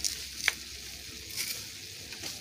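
Crushed garlic dropped into ground meat frying in a pan, giving a quiet steady sizzle with a brief sharper crackle near the start and faint stirring scrapes.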